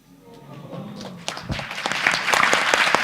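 Someone speaks briefly over near-silence before an audience at an ISKCON temple lecture on the Srimad Bhagavatam bursts into clapping, which swells from scattered claps into a fuller, louder round.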